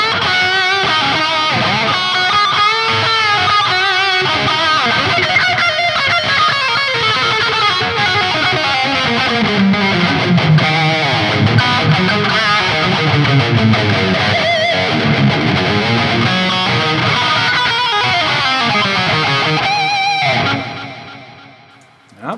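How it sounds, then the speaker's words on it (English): Electric guitar lead playing through a Boss SDOD overdrive with delay and reverb on an STL Tones Tonehub PVY Vector amp sim, a continuous loud distorted melodic run that fades out at the end. "So first channel with the Boss SDOD sounds like this."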